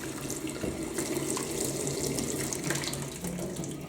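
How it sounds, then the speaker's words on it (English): Kettle descaler water poured down a kitchen sink, a continuous splashing trickle with faint gurgles at a moderate distance and no talk. "pour the contents down the sink"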